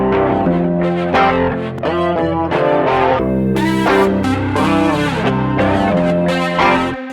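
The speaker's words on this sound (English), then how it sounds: "The tape machine is really good for making sure that nothing gets too much top end on it" Guitars run through tape-machine processing in a modern pop production, a warm, distorted and rounded tone with softened highs, strummed chords sustaining loud and steady throughout with no talk.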